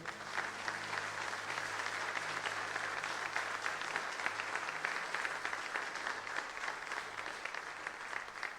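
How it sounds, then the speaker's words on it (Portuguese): An audience in a church claps steadily for several seconds, a dense, continuous round of applause with low sustained tones beneath it. "Aleluia, vamos aplaudir ao Senhor."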